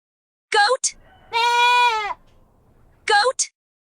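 A goat gives one long, wavering bleat close by, framed by short, sharp vocal bursts just before and after it.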